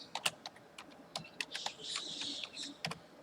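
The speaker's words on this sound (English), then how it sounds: "See, I'm typing here in this" Quick, uneven taps on a computer keyboard while typing into industrial simulation software, soft and close, with a brief faint whirring noise in the middle.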